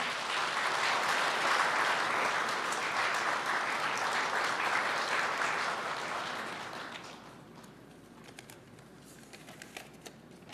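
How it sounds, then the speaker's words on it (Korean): Audience applause welcoming the Korean union confederation chairman at a Labour Day ceremony held at the presidential office, sustained clapping from a seated crowd that fades out after about seven seconds into quiet room tone. "박수 부탁드립니다."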